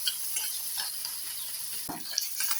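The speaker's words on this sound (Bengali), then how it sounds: "পেঁয়াজ, আদা, রসুন দিয়ে এবং সমস্ত মশলা দিয়ে এটা বেশ ভালোভাবে ভাজা হয়ে গেছে" A masala of onion, ginger and garlic sizzles in hot oil while being stirred, with a steady bright hiss broken by scraping strokes of a spoon against the pan.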